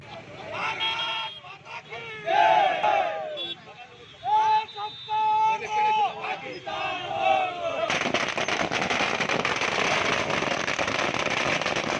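Party workers in a crowd chant patriotic slogans in unison, repeated rhythmic shouted phrases, then a dense burst of firecrackers crackling continuously over the cheering.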